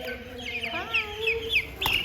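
A backyard chicken clucks and chatters nearby in a series of short, rising and falling calls, fairly clear against a quiet coop background.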